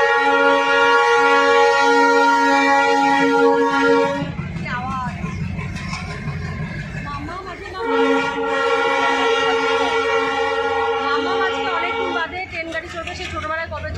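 A train sounds its horn at Dum Dum station in Kolkata while cars roll past. The horn is very loud and close, with two long blasts broken by rumbling rail noise, and voices talk in the background.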